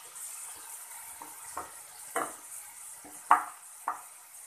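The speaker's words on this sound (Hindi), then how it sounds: "इसे डालने के बाद अब हम पहले इसमें ये प्याज डालेंगे जो हमने दरदरा सा पीसा हुआ है।" Coarsely ground onion with curry leaves fries softly in a pan under a quiet, steady sizzle, while a spoon stirs with about half a dozen scraping strokes.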